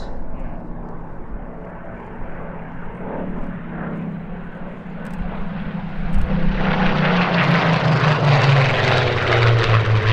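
A Spitfire propeller fighter plane approaches at an airshow with a rising engine drone, growing louder as it roars past close by.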